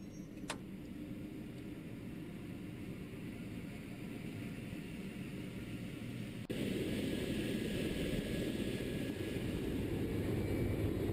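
Second Life helicopter idling with its rotor brake engaged, a steady low engine drone and whir that steps up louder partway through, continuous and close with no voices.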